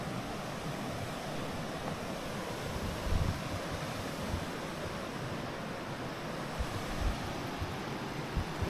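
Water rushes steadily over rocks at a north Florida waterfall, a continuous broadband roar close by with low gusty rumbles and no voices.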